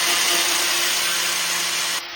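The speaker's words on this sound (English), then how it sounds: "we got my dad sanding it down" Steady, continuous power sanding of a metal truck bumper for a Toyota Tacoma, with a broadband abrasive hiss and a faint motor whine, close by, cutting off abruptly just before the end.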